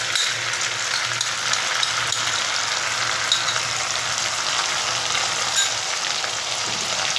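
Poppy seed and mustard paste frying in a pan with fried eggplant, a steady close sizzle with faint scraping and stirring clicks, continuous and even throughout with no talking.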